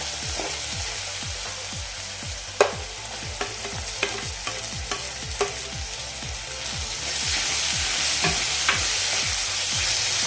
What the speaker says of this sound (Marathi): टोमॅटो आपला सॉफ्ट होईपर्यंत हे परतायचं आहे